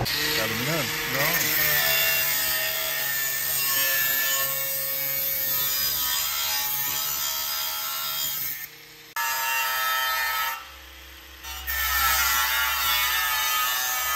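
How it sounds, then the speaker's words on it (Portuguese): Electric sander grinding against a homemade gym machine being converted into a leg curl bench, a loud steady abrasive whine that drops out briefly twice, with voices talking over it. "Aí, Thiago, só meter a lixadeira."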